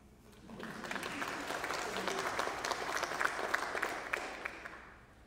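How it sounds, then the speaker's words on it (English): Audience at a memorial celebration-of-life service breaks into sustained applause that swells, holds steady and fades away, with a faint murmur of voices underneath. "It's okay to clap."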